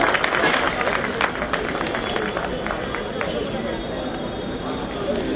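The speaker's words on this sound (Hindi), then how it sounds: "जोरदार ताली भाई" Audience applause at a Bar Council of Delhi lawyers' welfare symposium, a dense, loud burst of many people clapping that starts strong and slowly tapers, with a faint murmur of voices underneath.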